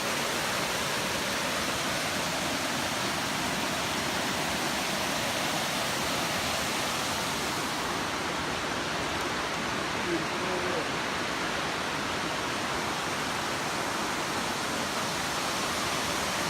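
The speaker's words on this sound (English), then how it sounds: "we're at Hemlock Falls" Hemlock Falls, a waterfall deep in Cloudland Canyon, gives a steady, dense rushing roar that holds evenly from start to finish, loud and close with no breaks.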